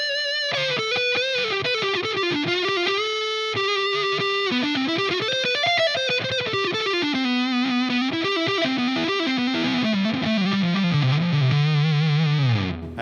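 Electric guitar through an EarthQuaker Devices Cloven Hoof fuzz pedal cranked for a saturated lead tone, playing a continuous sustained melodic line with bends, thick and loud with no gaps.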